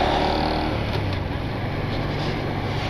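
A 2019 Honda Super Cub 125 motorcycle rides along with a steady, close engine drone and low exhaust rumble, running smoothly through gear changes without obvious breaks.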